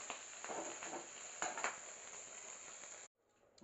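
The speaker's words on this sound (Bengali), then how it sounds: "মাছটাকে একটু ভেজে নিচ্ছি" Pabda fish fry in hot oil in a pan, giving a soft, steady sizzle with a few brief louder crackles, before the sound cuts off abruptly near the end.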